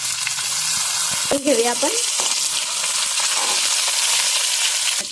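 Finely chopped tomato drops into a pan of okra and garlic and sizzles loudly and steadily, with a short spoken phrase near the start.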